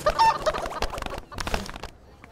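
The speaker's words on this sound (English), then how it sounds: "More chickens." Cartoon chickens cluck and squawk in a busy, overlapping flurry, loud and close, with a few sharper calls before the noise thins out.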